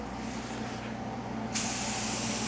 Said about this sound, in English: now I'm gonna come and spray another coat of candy on this whole panel